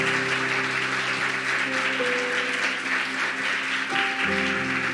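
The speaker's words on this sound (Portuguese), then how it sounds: "Então vamos aplaudir ao Deus da palavra." Congregation applause at a church worship service, a steady wash of clapping over sustained keyboard-like tones, continuing for about five seconds.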